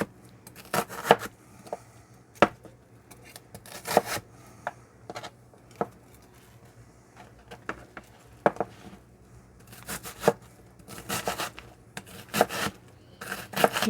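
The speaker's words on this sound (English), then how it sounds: "you want to watch your fingers when you're chopping your vegetables" A kitchen knife chops vegetables on a cutting board for chili beans, with irregular sharp cuts, some in quick bursts, fairly close and alone.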